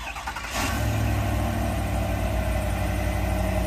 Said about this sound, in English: Now we do have remote start, two presses of that times two circle arrow.